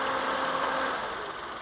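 A 1000 cc car engine idles steadily with a clean, oil-free bay, an even close-up mechanical hum that holds at constant level for under two seconds.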